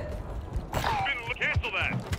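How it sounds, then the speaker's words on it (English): Clicking, metallic mechanical handling of a weapon being reloaded in Call of Duty: Modern Warfare 3 (2023), a Kill Confirmed match on Tokyo, with creaks and clacks mixed in among a voice speaking close by. "Reloading!"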